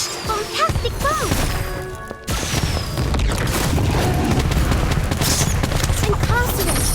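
In a Harry Potter spell-casting video game, a Bombastic bomb spell erupts in a loud flurry of booming, crackling blasts, like a rapid fusillade. Whistling and swooping magical effects sound around it, and the din stays dense and forceful throughout.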